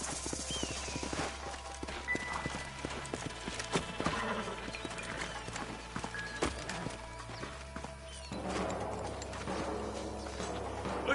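Horse hooves clip-clop at a walking pace in the video game Red Dead Redemption, alongside mechanical clicks and a low ambient hum, with a faint whinny; no talking.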